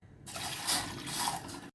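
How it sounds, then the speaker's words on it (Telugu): Water is poured from a glass into a cooking pot to be boiled for sweet rava appam, a brief steady splashing stream filling the vessel, fairly close and moderately loud, with no talking. "గిన్నెలో 2 గ్లాసుల నీళ్లు పోసి మరగబెట్టాలి."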